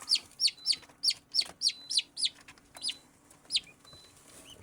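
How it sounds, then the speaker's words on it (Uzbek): Young turkey poults chirping in a run of high, rising peeps, about a dozen evenly spaced calls, close and clear, with a faint low background hum. "Katta bo'lib qoldi jo'jalarimiz."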